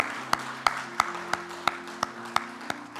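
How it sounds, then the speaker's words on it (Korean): A church congregation claps together in a steady unison beat, about nine sharp, evenly spaced claps in three seconds, over sustained organ-like tones. "우리 다 같이 박수로 좀 크게 격려도 하고 감사의 말씀"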